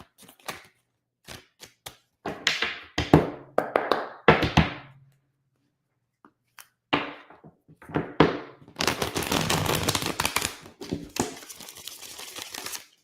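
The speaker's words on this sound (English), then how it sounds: "That was a quick shuffle, Ray." Tarot cards shuffled quickly by hand during a reading, giving bursts of dense riffling and flicking clatter with short taps and gaps between them, close and fairly loud, with no talking.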